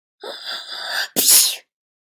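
A snowman from a children's story sneezing: a short breathy intake that builds, then a sharp, loud burst, voiced by a person imitating the sneeze.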